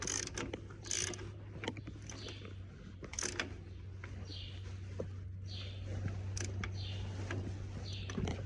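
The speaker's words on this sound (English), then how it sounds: "Let's go ahead and hit this outside one." A hand ratchet clicks in quick, irregular bursts while tightening the starter bolts on an Allis-Chalmers 7045 tractor, close and crisp over a low steady hum.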